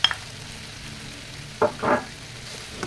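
Chicken pieces sautéing in a pan for a nilaga dish, giving a low, steady sizzle with two short bursts of stirring or scraping near the end, with no voices.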